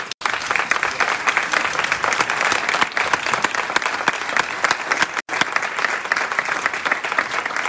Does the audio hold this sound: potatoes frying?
no